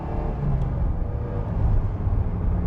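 A 1986 Ferrari 328 GTB cruises along a sweeping road at dusk, giving a steady low engine rumble and road roar heard from inside the car, with no talking.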